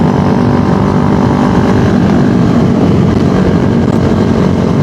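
Sniper Super Loaded racing motorcycle engine at full power during a race, a loud sustained high-revving drone held steady throughout, close and unbroken with no talking.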